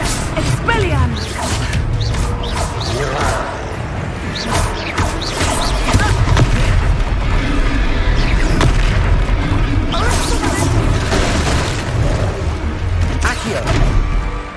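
Spell combat in the Hogwarts Legacy video game, with an Expelliarmus blast among a dense run of loud booms, crashes and whooshes that keep going for the whole stretch, and a voice talking over it.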